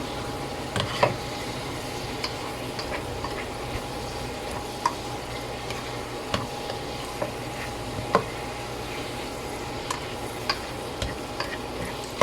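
A spoon stirs a pamplina mixture in a cooking pot, with steady soft sizzling and a repeated light tick of utensil against the pan at irregular intervals, with no talking.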